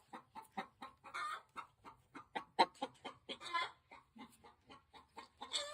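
Chickens cluck close by in a coop while eggs are collected on a farm: a rapid, irregular series of short clucks and squawks, fairly loud, with no talking.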